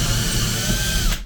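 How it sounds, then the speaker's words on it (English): A power drill bores into a wall in a ham radio shack while shelves are being fitted, a loud, close, continuous whir that grinds steadily and then winds down at the end. "We might as well drill every inch until we find a bloody"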